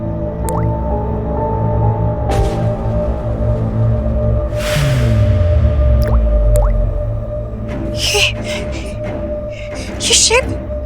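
Water dripping in a scene, with irregular drip and squishing sounds near and fairly loud, under and between people talking.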